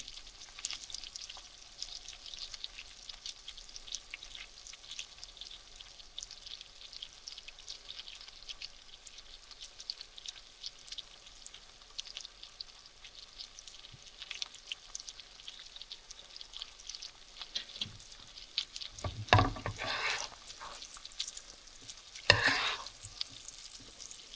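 Chicken sizzles and crackles steadily in garlic butter in a pan, a continuous close frying hiss with louder bursts near the end as it is stirred, and no talking.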